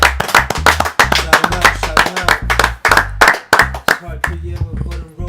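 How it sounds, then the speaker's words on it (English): A round of applause from a small group on a casual rap-radio show, brisk uneven hand claps with loud low thumps and some voices mixed in. "Let's give a round of applause."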